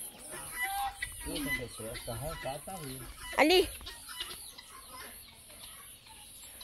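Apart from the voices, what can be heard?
hens clucking while laying eggs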